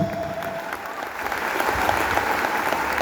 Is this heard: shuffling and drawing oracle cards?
no